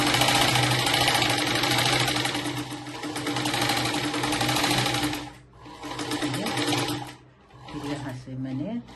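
A sewing machine runs a double stitch along a blouse sleeve, a fast close rattling whir that runs steadily and then stops and restarts in short bursts near the end, with someone talking over it.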